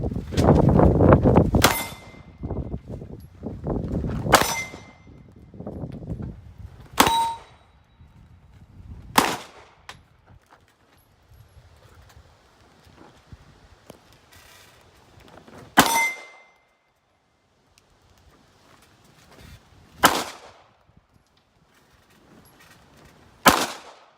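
Gunshots fired at a big steel target ring out one at a time, each a sharp crack followed by a metallic clang. About eight shots come at irregular intervals, with quiet gaps between them.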